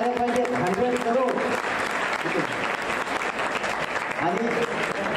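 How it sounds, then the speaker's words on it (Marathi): Sustained applause from an audience at a college award ceremony for a biotech entrepreneur, dense and steady throughout, with a voice talking over it at the start and end. "तेवढ्या टाळ्या झाल्या पाहिजेत"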